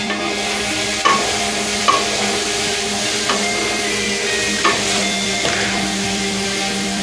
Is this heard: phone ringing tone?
no